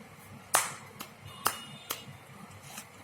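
Children clap their hands in a classroom activity, a handful of sharp, separate claps spaced out irregularly, fairly quiet against a faint room background.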